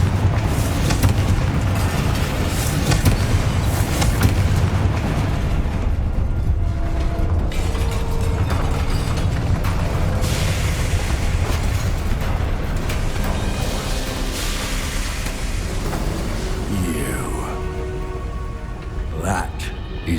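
Blasting-spell explosions from the Hogwarts Legacy video game, a dense, continuous roar of booms and rumbling debris that fills the whole stretch, with a voice speaking faintly underneath.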